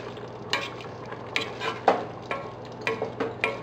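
Beef pares seasoned with salt and black pepper, stirred in a pan: a handful of separate scraping strokes of a spoon at a loose rhythm over a soft, steady sizzle, close by.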